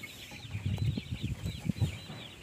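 Free-range village chickens cluck in low, quick, repeated bursts nearby, moderately quiet over faint background chirps, with no talking.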